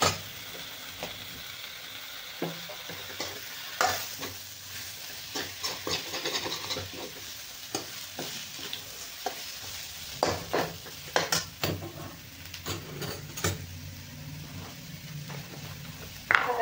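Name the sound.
bitter gourd being sautéed and stirred with masala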